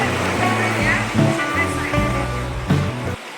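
The Charyn River rushes in a steady, loud roar near its canyon in Kazakhstan, broadband water noise heard close up and continuous, with a voice talking over part of it.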